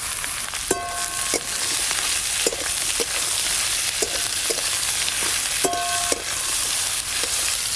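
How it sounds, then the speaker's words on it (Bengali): Potatoes and eggplant fry together in a pan with peeled garlic cloves, giving a steady sizzle broken by occasional scraping and stirring clinks and one or two short clattering bursts of the utensil. "কেটে ধুয়ে রাখা আলু আর বেগুন দিয়ে একসঙ্গে সব কিছু ভালো করে ভাজবো"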